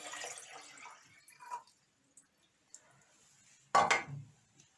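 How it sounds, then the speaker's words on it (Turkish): Water is poured into a heat-resistant glass tea-brewing vessel: a short splashing pour with a glassy clink, then scattered drips in a quiet room. "Suyumuzu ekliyoruz."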